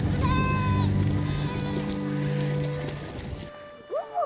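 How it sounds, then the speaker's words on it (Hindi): A flock of sheep bleats in Ladakh, herded by Changpa herders near a river crossing. Several loud, close, overlapping bleats are followed by a pause and then a fainter single call. "इतनी भेड़ों को संभालना भी आसान काम नहीं है"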